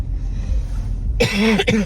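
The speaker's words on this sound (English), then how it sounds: "I still have this cough." A single harsh cough bursts out after a moment of quiet low background noise, close and loud, with a short catch in the middle.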